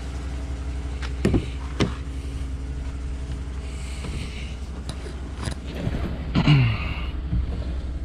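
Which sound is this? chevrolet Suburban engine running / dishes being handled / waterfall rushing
chevrolet Suburban engine running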